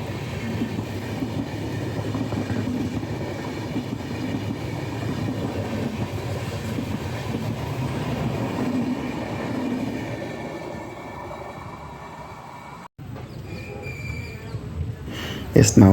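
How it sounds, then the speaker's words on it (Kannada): A train from Bengaluru toward Kanyakumari rumbles steadily along the rails, easing as it slows into Nagercoil Junction, then a brief sharp break followed by quieter clanks and squeals near the end. "ಈ ಟ್ರೈನ್ ಇಲ್ಲಿಗೆ ಸ್ಟಾಪ್ ಆಗುತ್ತಿದೆ ಲಾಸ್ಟು"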